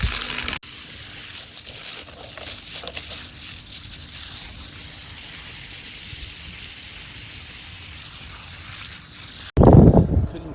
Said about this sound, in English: that's how we're going to water our chestnut trees